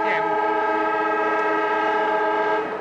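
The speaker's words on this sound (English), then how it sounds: "Siren sounding." A quarter-time siren at a football stadium during the 1980 VFL Grand Final between Richmond and Collingwood sounds as a steady, loud, harmonically rich drone that holds for about three seconds before easing off.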